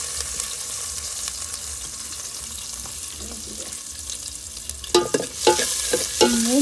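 Onions frying in a pot on a wood stove, a low steady sizzle underneath, then a few sharp scraping strokes of stirring toward the end, close by, with no talking.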